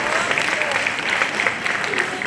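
Audience applause for dancers after a Semarak Adat dance performance at a Bulan Bahasa cultural event in Singapore, a steady wash of clapping at moderate volume with no clear break.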